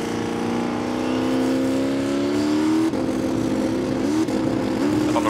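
Peter Pisolides' Chevy Camaro drag car idles loudly and rises in pitch as it creeps into stage at Calder Park's Friday night drags, the big engine rumbling close with short blips of revs near the end.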